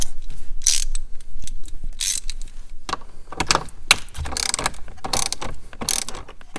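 Ratchet wrench backing a 10mm bolt out of plastic trim on a Jeep Wrangler JL, a series of bursts of rapid metallic clicking with short pauses between strokes, loud and close with no talking.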